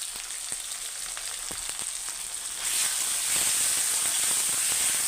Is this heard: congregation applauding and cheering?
no